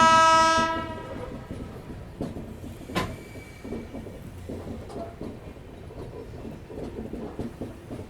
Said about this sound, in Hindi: बीना से निकल कर आ रही है केरला एक्सप्रेस त्रिवेंद्रम नई दिल्ली।